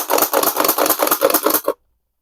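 A Nerf Super Maxx 5000 blaster trigger pulled back, giving a close, dry run of about a dozen rapid mechanical clicks and ratchets that stop abruptly after under two seconds.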